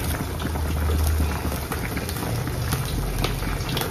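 A pot of fish with ghost chili and black pepper boils hard in a home kitchen, a steady, close, bubbling hiss and patter that continues evenly without any talking.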